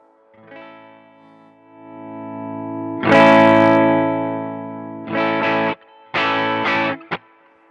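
A Fender American Professional II Jazzmaster electric guitar played with gain, a sustained distorted chord ringing out, then louder strummed chords and short choppy stabs, close and loud with no voices.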